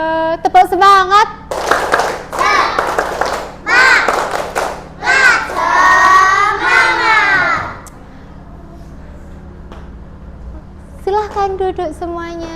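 Several bursts of rhythmic hand clapping come from a group of third-grade children in a classroom, mixed with loud children's chanting voices between and over the claps. A quieter pause follows before voices return.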